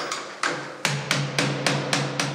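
A door lock being broken open with a screwdriver and locking pliers, a series of about seven sharp metallic knocks in a fairly even rhythm, close and loud with no talking.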